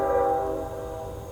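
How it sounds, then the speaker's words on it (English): A train passes near a forest campsite with its horn blaring, a sustained tonal horn over low rumbling that fades slightly across the short clip, loud and fairly close. "so you guys don't have to hear this train all night"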